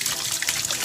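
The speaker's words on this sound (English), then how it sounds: "Wash your hands." Tap water runs steadily while hands are washed during dough preparation, a close, even trickle and splash with no break across the short stretch.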